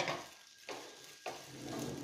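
A wooden spatula stirs broccoli and onion in a pot, making three quick scraping strokes with short quiet gaps between them.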